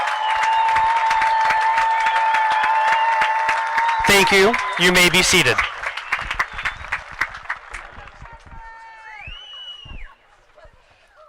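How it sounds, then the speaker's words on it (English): A high school graduation crowd applauds the seniors with sustained clapping and some cheering over a steady held musical tone. The applause thins into scattered claps as a voice over the loudspeaker addresses the audience. "Please give all of our seniors a rousing round of applause."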